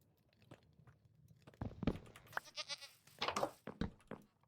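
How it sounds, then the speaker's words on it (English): A Minecraft goat bleats in a short, nasal burst, with scattered clicks and chewing-like game noises around it. The sounds come through at a quiet level, and no voices are heard. "Is there a goat trapped in here as well?"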